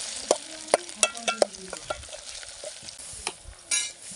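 A spoon stirs mutton curry with ginger in a hot pan, several sharp scraping strokes over a soft sizzle, close and fairly loud.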